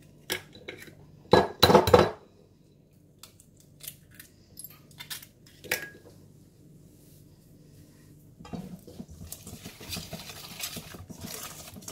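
Butter, sugar and eggs being mixed for frangipane: a few loud clattering knocks of utensil against a bowl early on, then softer scattered scraping and tapping, with a denser rustle near the end.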